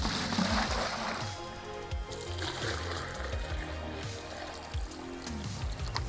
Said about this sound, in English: I'm gonna get a gallon of water, which I'm gonna put into here